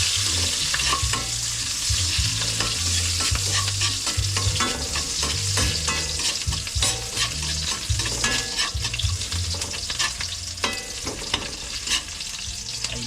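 Garlic and onion sautéing in a pan give a loud, steady sizzle and crackle, with stirring scrapes, close and continuous throughout with no talking.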